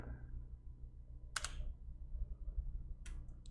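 Two crisp, close key clicks on a computer keyboard, the Enter key being pressed, spaced well apart over a quiet low hum.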